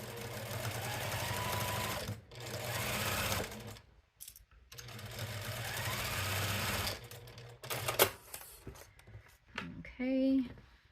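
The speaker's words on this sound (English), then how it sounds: "So we're just gonna sew right up next to it." A sewing machine stitches alongside a zipper on a fabric pouch in bursts of fast, steady whirring separated by pauses, with a person talking quietly between runs.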